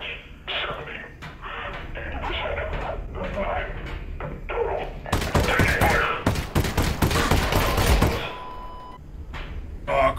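A rapid, close volley of gunshots crackles for about three seconds in Half-Life: Alyx, coming after a stretch of speech and scattered noises.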